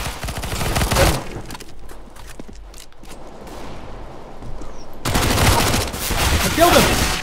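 Gunfire from Counter-Strike: Global Offensive, likely a Mac-10 submachine gun, in loud rapid bursts at the start and again in the last seconds, with a quieter stretch between.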